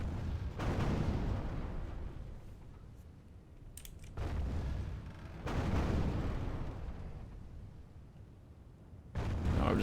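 Artillery fires during a siege in the video game Total War: Call of Warhammer. Heavy, distant booms roll out at spaced intervals, each with a long rumbling tail.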